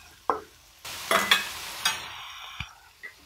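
Brinjal chutney ingredients with dal and salt fry in a pan, sounding as a few short bursts of sizzle and scraping stirs separated by near-quiet gaps, close and fairly loud.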